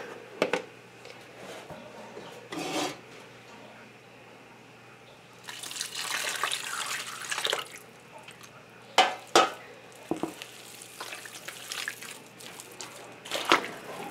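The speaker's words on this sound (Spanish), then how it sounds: "Y voy a empezar a agregar el caldo." Broth is poured into masa flour in a bowl for chicken mole tamales, with several short splashing pours and a longer stream, plus spoon clinks and stirring in between, nearby and moderately loud.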